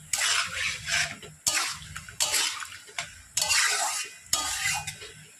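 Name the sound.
water poured into pot of chicken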